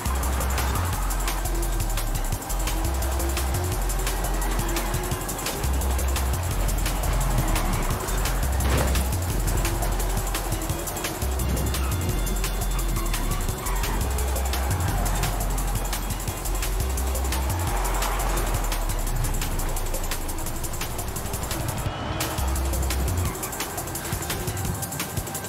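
A car's engine in the racing game Forza Horizon 5 hums steadily while the throttle is blipped on and off, giving a repeating low pulsing pattern over a constant loud engine and background game sound.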